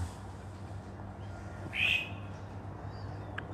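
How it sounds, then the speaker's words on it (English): A single brief bird call sounds outdoors near the two-second mark, a short high squawk standing out over steady low hum and ambient noise. "There's a bird calling."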